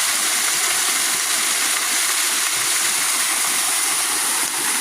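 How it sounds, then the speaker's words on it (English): A waterfall in a natural setting, pouring in a steady dense hiss that stays loud and unbroken from start to finish, with no voices. "Beautiful waterfall."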